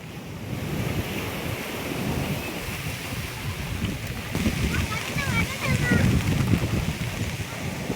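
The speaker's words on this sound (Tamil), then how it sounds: "சீற்றத்துடன் காணப்படும் கடல் அலைகள்" Rough sea waves roll in at Tharangambadi under a cyclone warning, a continuous loud surf roar with heavy wind buffeting the microphone and no clear talking.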